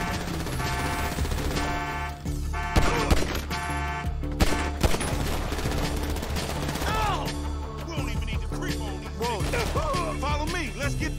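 Dense gunfire in GTA 5, with sustained loud automatic bursts and shots throughout a chaotic firefight, under shouted voices.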